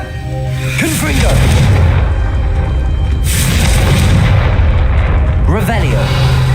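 Deep, booming Confringo spell explosions in the Hogwarts Legacy video game, heavy rumbling blasts rolling on continuously and loudly, with a voice briefly audible over the din.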